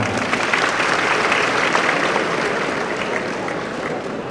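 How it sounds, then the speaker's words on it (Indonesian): Dense audience applause at a transport-school graduation ceremony, a loud continuous wash of clapping from a large crowd that holds steady and eases slightly near the end. "Mantap, tepuk tangan."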